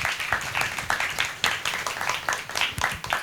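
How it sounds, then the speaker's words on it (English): An audience at a school speaker-series event applauds to welcome guests of honour, a close, dense patter of many hands clapping steadily throughout. "So round of applause to welcome our two guests of honors."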